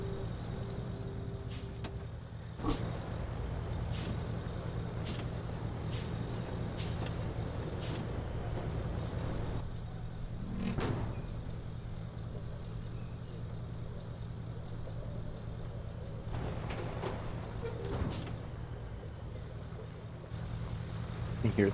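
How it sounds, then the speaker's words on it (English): Heavy trucks idle and rumble steadily at a paving site in the game Roadcraft, with a series of short clicks and clunks like doors shutting over the low engine drone. "You hear the doors, there's more trucks."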